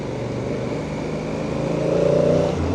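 Honda CRF1000 DCT Africa Twin motorcycle riding through a village, its steady engine drone holding close and even, swelling slightly louder near the end, with no talking.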